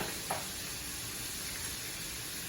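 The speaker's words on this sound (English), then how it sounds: "I'm going to let that side of the steak sear a little bit" Steak sears in butter in a pan with a soft, continuous hiss and sizzle, fairly quiet and even, with one brief pop near the start and no talking.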